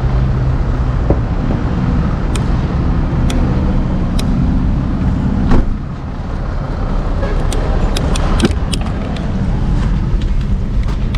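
Steady road rumble from inside a taxi moving through heavy traffic in the Philippines, a loud low drone that runs throughout with a few sharp clicks and knocks, one brief dip midway, and no clear talk.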